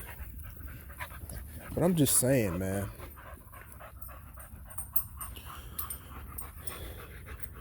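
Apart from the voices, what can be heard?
dog panting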